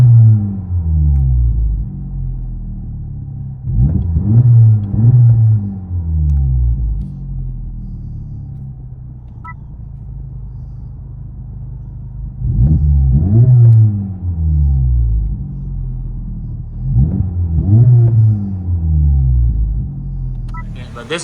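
A stock 2024 Honda Civic Type R with a 2.0L turbo engine, heard from inside the cabin, idles with a low rumble, then revs sharply in three separate bursts that rise and fall.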